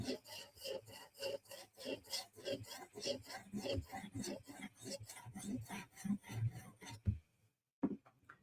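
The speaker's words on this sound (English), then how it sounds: "finish off with 150 stone on the side. Just give it a quick pass." Benchmade 940 blade drawn over a 150-grit stone on a TSProf Kadet guided sharpener in quick, rhythmic strokes, faint and close, ending with a short pause and a couple of light taps.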